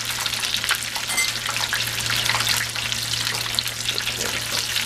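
Fish frying in a hot pan for a po' boy, a steady, moderately loud sizzle and crackle with a low hum underneath and no talking.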